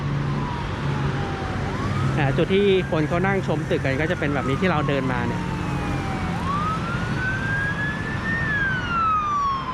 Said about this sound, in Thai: แต่ว่าบรรยากาศ เสียงหวอหน่อยนะ